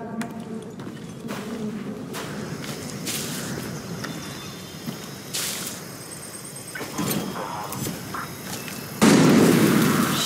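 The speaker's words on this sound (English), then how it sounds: "Shit, who's shooting?" Gunfire and explosive bursts in the Far Cry 6 video game, scattered sharp pops and booms at moderate distance over a steady ambient rumble, with a louder blast near the end.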